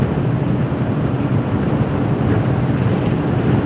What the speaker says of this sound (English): it's getting windy as hell